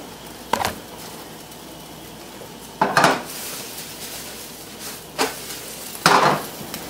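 A cheese omelette tossed in a frying pan, three or four separate bursts of pan rattle and clatter spaced a couple of seconds apart over a quiet background.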